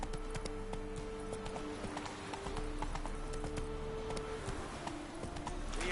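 Roach the horse trotting in The Witcher 3 game, hooves clip-clopping in a steady rhythmic stream over continuous ambient game sound, close and moderately loud.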